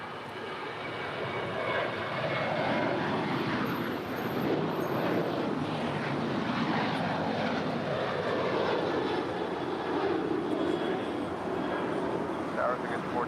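A United airliner takes off from runway 25 right at LAX, its jet engines roaring loud and steady for the whole stretch, a broad continuous rumble with no break.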